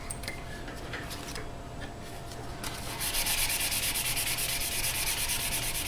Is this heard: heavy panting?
no